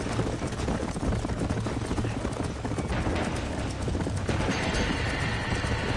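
Horse hooves pound in a fast galloping rhythm amid dense, roaring background noise, in the video game Red Dead Redemption with a barn on fire.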